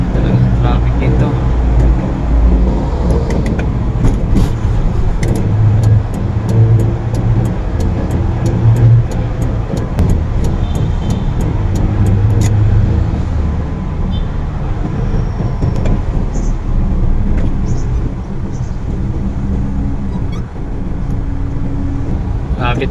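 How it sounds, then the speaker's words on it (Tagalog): Congested road traffic in Tondo, Manila is heard from inside a vehicle. A continuous rumble of engines and passing cars is joined by occasional horn-like tones and clicking, with people talking throughout. "Talaga traffic dito."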